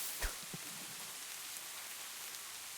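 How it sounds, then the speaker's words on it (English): Rainfall in Society: Sunlit Valley hisses in a constant wash, with one brief low thump near the start and a few faint clicks scattered through it. "And it's raining."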